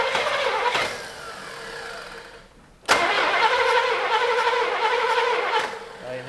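A V8 Buick LeSabre left sitting for 34 years, its engine cranking loud and close in a long, rough, continuous burst. There is a brief dead pause, then another sustained cranking effort.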